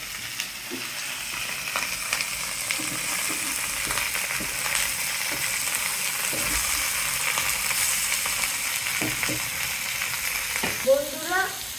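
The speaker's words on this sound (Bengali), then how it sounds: "বন্ধুরা, এবার পটলগুলো ভালো করে ভেজে নেব" Pieces of pointed gourd (potol) frying in hot oil, giving a steady close sizzle throughout, with a few light stirring scrapes near the end.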